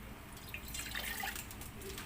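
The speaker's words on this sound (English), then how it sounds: "So I'm gonna put like 3 cups of water." Water poured into a cooking pot for a chocolate tablea drink makes soft splashes and light dripping for a couple of seconds, faint and close.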